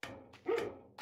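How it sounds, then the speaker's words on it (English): A dog gives a couple of short, sharp barks close by, with a brief yip between them, all within about a second. "Dogs, dogs everywhere."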